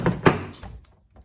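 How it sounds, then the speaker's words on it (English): A BMW 3-Series car door opens with a couple of close, solid thunks and a clack of the latch, then fades to quiet. "open the door."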